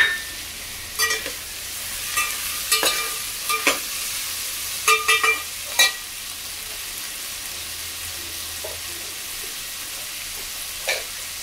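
Carrots and potato pieces fry and brown in oil in a pan. A steady sizzle runs throughout, broken by scattered scraping stir strokes with a spoon. No one speaks.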